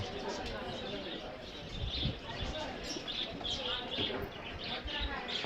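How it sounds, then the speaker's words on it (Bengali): Pigeons coo and chirp at a busy pigeon market in Savar, soft repeated calls over steady crowd hubbub and chatter, fairly close. "এই যেখানে খেয়াল করে দেখুন প্রচুর পরিমাণে কবুতর আছে এখানে"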